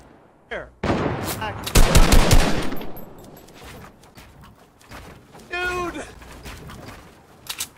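Gunfire in Fortnite, bursts of close rapid shots and single cracks, loud and overlapping, with players talking excitedly over it.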